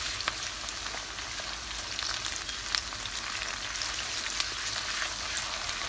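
Onions with ginger and garlic fry on high heat in a pan, giving a steady, moderately loud sizzle with faint crackles throughout and no voices.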